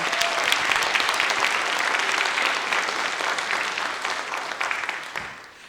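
A crowd gives warm applause for a speaker at a birthday celebration for a center for Black literature and culture, with full, continuous clapping that holds steady before fading out at the close.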